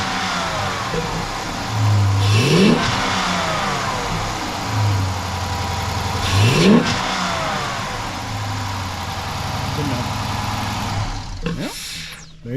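A Dodge Charger with a newly replaced intake and exhaust runs at a steady, rumbling idle, broken by three sharp throttle blips spaced a few seconds apart, the last one near the end and loudest.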